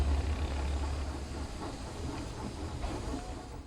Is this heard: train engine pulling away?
yes